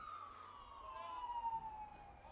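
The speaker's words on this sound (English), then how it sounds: "As we have sirens all around, Brian, they finally caught up to you." During a college baseball broadcast of a Warrior game against Cal State Monterey Bay, a siren wails continuously, its pitch gliding slowly downward as it sounds at moderate volume from some distance.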